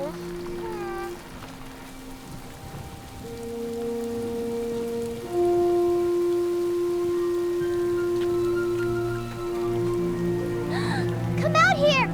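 Steady mountain rain patters softly beneath sustained musical tones and a few voice-like sounds.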